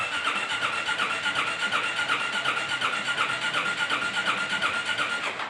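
A Zontes ZT350E scooter engine runs steadily at close range, a continuous mid-pitched drone with a fast regular pulsing and a faint whine, loud and unbroken throughout with no talk.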